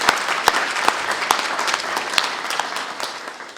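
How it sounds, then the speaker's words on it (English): Audience applause at a luncheon in honour of the caterer, a steady wash of many hands clapping with a few sharp, louder claps standing out, sustained throughout without speech. "Let's give a round of applause for Pangea"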